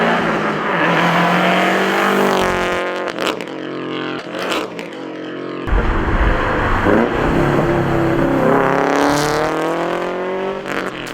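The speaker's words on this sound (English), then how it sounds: "let's show you guys some flybys with this exhaust setup." A Subaru with a loud aftermarket exhaust roars past in a close flyby, the engine note rising and swelling, dropping briefly, then surging loudly again as it revs and accelerates away.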